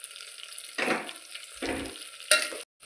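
Hot green chilies are tossed into a pan of onions frying in oil for masale bhat. A steady sizzle is broken by a few louder bursts of stirring and scraping, ending in a brief clink.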